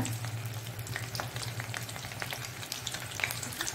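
Tender jackfruit kebabs fry in oil in a kadai with a steady, even sizzle and scattered small crackles throughout. No voices are heard.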